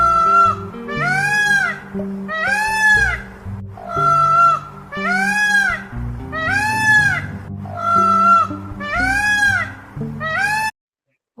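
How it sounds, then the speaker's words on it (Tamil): Loud, harsh peacock calls repeat about nine times in a steady rhythm, each a rising-and-falling wail, over a continuous low musical backing, then cut off abruptly near the end. "மயில்."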